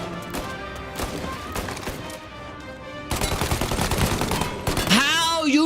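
Gunfire in the Mafia video game: repeated sharp shots in quick bursts, growing denser and louder toward the end, with a voice briefly heard at the close.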